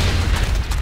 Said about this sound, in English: Fire in the hole!